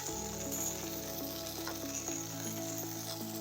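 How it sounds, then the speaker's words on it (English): White onion hits a hot pan and sizzles steadily, a close, constant frying hiss with faint utensil taps, no voices. "we're going to add our white onion"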